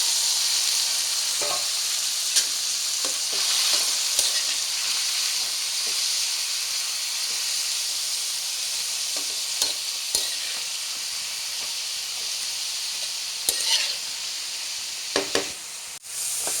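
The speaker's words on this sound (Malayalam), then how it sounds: "ഇതെല്ലാം നല്ലപോലെ വഴറ്റി എടുക്കണം തക്കാളി എല്ലാം കൂടെ ഒന്നിച്ചിട്ട് വഴക്കാം" Snake gourd and tomato sautéing in a hot pan for a Kerala-style theeyal, a steady loud sizzle and hiss with occasional scraping stirs and clinks of a spoon, no talk.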